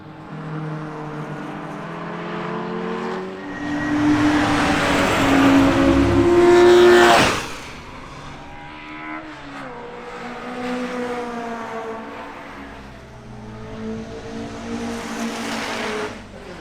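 A race car on a track, its engine rising and falling in pitch as it accelerates and shifts, swelling louder mid-clip then settling into a steadier drone as it continues around the circuit.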